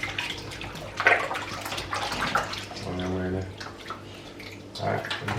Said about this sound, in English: So I'm gonna wash this with some vinegar right now.